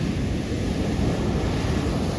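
Stormy sea waves crash and churn in a loud, continuous roar mixed with gusting wind buffeting the microphone, with no one speaking.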